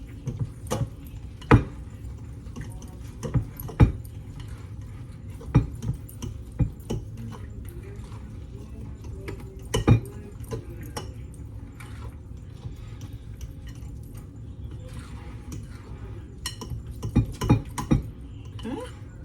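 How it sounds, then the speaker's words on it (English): Butter and milk are being mixed into Brussels waffle batter in a bowl with a utensil. Sharp clinks and taps land at an irregular pace over a low, steady background, with quiet talk in places. "And then you're going to mix this up real well together"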